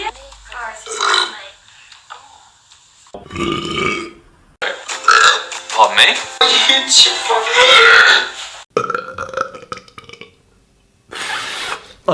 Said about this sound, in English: Mom might burp.